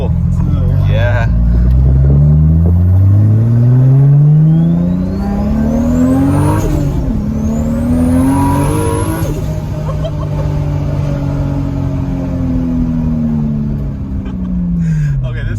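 A loud turbocharged Toyota Supra accelerates hard, its engine note rising through repeated gear pulls with a turbo whistle and shifts, roaring close and continuous.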